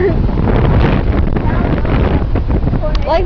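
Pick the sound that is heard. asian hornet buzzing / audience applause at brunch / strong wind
strong wind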